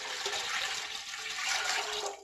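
Water pours into a cooking pot while preparing a Tulu-style padengi (green gram) curry, a steady, close splashing rush lasting a couple of seconds with no talk over it.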